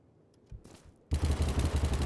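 An SG-550 assault rifle fires in Battlebit Remastered, opening with a few faint clicks before a loud, sustained burst of rapid automatic gunfire.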